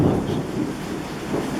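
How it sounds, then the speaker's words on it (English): Thunder rolls as a low, steady rumble, fairly loud, with no voices over it. "that's thunder."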